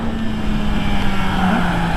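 A Kawasaki Z H2 supercharged roadster motorcycle engine drones steadily and loud on a test ride in second gear, a continuous close engine tone with slight pitch drift and wind noise.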